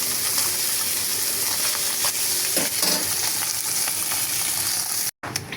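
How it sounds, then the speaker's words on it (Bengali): Iftar snacks and onions frying in a pan at home, a steady loud sizzle throughout with a few stirring scrapes, cutting out briefly near the end. "এক পাশে ইফতারি ভাজা শুরু করেছি, আর এক পাশে রান্না হচ্ছে।"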